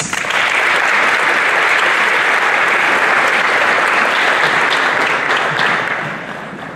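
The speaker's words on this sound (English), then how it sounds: "All right, one more round of applause." A school audience at a spring sports awards ceremony gives a loud, dense round of applause that holds steady for several seconds, then tapers off at the end.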